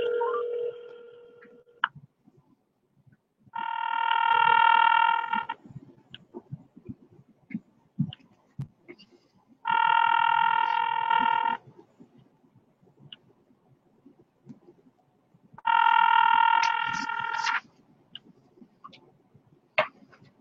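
Telephone ring tones played through a rewired phone speaker, three separate bursts of warbling electronic ringing about six seconds apart, each lasting nearly two seconds, with quiet ticking and faint clicks in the gaps.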